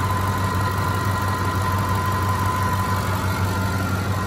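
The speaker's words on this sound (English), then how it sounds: "But just want you to hear the engine." Ford F-150 pickup engine idling with the hood open, a steady, even rumble with a constant low hum and mechanical whine, close and unchanging for the whole stretch, no talking.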